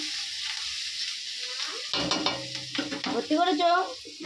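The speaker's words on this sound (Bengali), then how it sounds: "গ্যাসের মধ্যে পাঁচফোড়ন কাঁচা লঙ্কা দিয়ে দিয়েছি।" Panch phoron and green chillies crackling in hot oil on a gas stove, a sharp sizzle that swells midway with stirring, while a voice speaks briefly over it.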